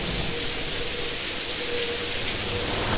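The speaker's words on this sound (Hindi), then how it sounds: "बाहर बारिश शुरू हो गई थी।" Steady rain falls outside, a dense, even hiss of drops that stays constant and fairly close throughout, with no voices over it.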